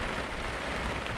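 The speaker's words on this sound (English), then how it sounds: "the rain has not stopped" Heavy rain falls at night, a dense, even hiss of drops on surfaces that stays steady throughout, with no voices.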